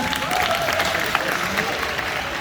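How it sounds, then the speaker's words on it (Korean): An audience at a badminton tournament prize draw in Pocheon claps steadily in a dense, lively burst that holds at an even level from start to finish. "네, 큰 박수 부탁드립니다."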